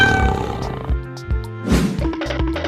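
A tiger roars in a 3D animal slide video game, a loud, growling roar that rises in short bursts over bright game music.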